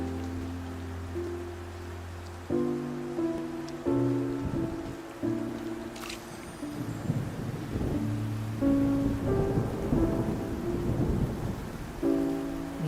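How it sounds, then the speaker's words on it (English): Rain and rolling thunder from a stormy scene in the video game Genshin Impact, a steady wash of rainfall with low rumbles, mixed under sustained, shifting game music tones throughout. "It's raining!"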